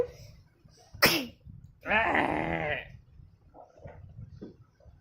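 A single sharp sneeze bursts out, followed by a drawn-out vocal sound and quieter murmuring voices against low background hum.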